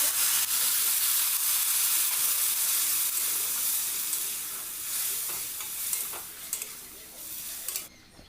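Water added to a hot, sizzling pan of food, giving a loud steamy hiss that settles into continuous frying crackle with occasional stirring scrapes, close by and without speech.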